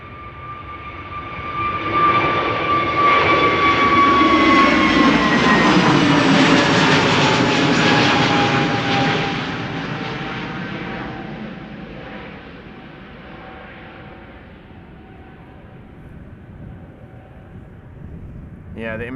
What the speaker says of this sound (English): KLM flight 623 to Atlanta, Georgia up next. That's 787-10.